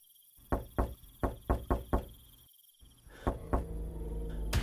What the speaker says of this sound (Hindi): अचानक उसके दरवाजे पर दस्तक हुई।